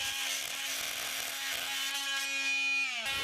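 Bosch GOP300CE multi-tool with a segment blade plunge-cutting into wood, a steady high buzzing whine with a strong tonal hum that drops and cuts out near the end.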